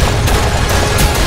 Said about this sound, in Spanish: Es una ametralladora.